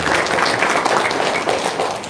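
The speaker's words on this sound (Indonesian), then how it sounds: "Wow, tepuk tangan dong." A crowd claps in a dense, steady burst of applause that stays even and fairly loud for about two seconds, then tapers slightly.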